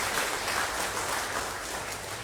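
Audience applause filling a memorial hall at an Australia Day awards and citizenship ceremony, a dense steady wash of many hands clapping for the whole stretch.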